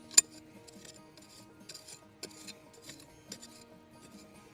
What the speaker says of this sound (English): Scratch it with a digger